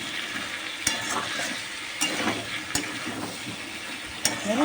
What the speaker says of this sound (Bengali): এবার আরেকটু নাড়াচাড়া করব